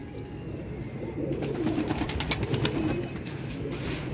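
Several pigeons coo at a pigeon-seller's setup, a low continuous murmur of overlapping coos at moderate distance with a few brief higher sounds mixed in.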